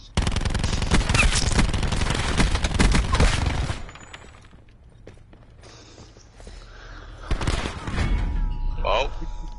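Gunfire in a shooter video game comes in loud, rapid automatic bursts, drops away briefly, then returns in shorter volleys, while a player talks intermittently over the action.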